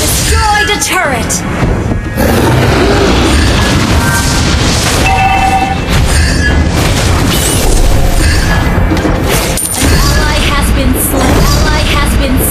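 Hectic mobile MOBA video game fight ending in a turret being destroyed, with loud booms, bursts and effect hits packed together, plus spoken game announcer voices over the din.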